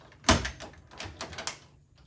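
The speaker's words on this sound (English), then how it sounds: "Let me shut this coin door." A pinball machine's metal coin door is shut with one sharp close near the start, followed by a few softer rattles and clicks as it settles.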